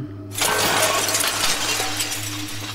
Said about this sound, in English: as all of the mirrors shatter around the room